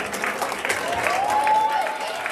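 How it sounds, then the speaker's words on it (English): Audience applause at a school winter sports ceremony held in an armory, a steady wash of clapping with a faint whistle running through it. "I want all the guys to please give them a big round of applause"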